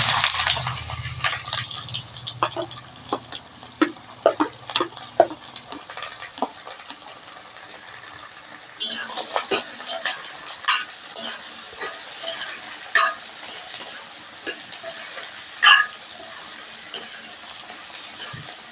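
Onions and green chillies dropped into hot oil with cinnamon and cloves for a tomato-onion gravy, sizzling and frying up close with scattered clicks of stirring, growing louder partway through.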